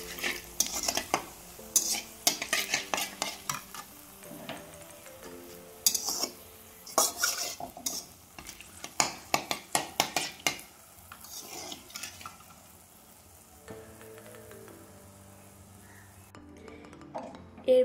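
A utensil scrapes and clinks against a pan as dry red chillies, whole garam masala and a bay leaf are stirred in hot oil while cooking banana flower, with bursts of metallic stirring over a soft sizzle.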